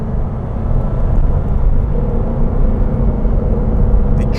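A Lancia Delta rally car engine runs at a steady, loud, low rumble with a constant drone, close by and with no one talking.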